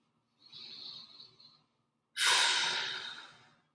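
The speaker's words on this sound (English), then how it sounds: "Breathing deeply, exhaling slowly." Two deep breaths during a full-body stretching routine: a softer inhale, a pause, then a louder, longer exhale close to the mic.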